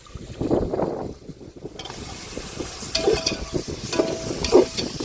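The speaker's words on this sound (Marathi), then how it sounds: "हे परतून घेतोय आपण." Roughly 3.5 kg of free-range village chicken stirred and sautéed in a pot over a traditional wood-fired stove, giving a soft sizzle with scraping stir sounds that grow busier and louder in the second half, with no talk.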